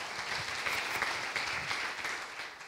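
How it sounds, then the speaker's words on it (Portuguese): An audience claps at a folk group's 85th anniversary ceremony where souvenirs are handed out; even, moderately distant applause with scattered sharper claps, sustained without speech. "O vosso aplauso."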